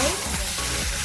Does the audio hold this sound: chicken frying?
yes